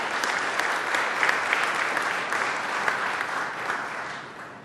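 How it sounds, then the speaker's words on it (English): An audience at a county crime statistics briefing gives steady, moderately loud applause, a dense wash of clapping that holds for several seconds before tapering slightly. "that deserves a round of applause"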